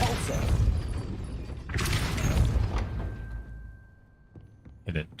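A Repulso spell cast in the video game Hogwarts Legacy: a loud, broad whooshing burst and thud near two seconds, after earlier game clatter, with a short sharp hit near the end.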